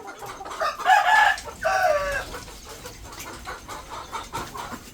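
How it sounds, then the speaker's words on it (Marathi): Desi hens on a small egg-laying poultry farm give a few loud, close calls in quick succession, then settle into a quieter background of scattered farmyard bird sounds. "इथे कोंबड्या अंडे घालतात."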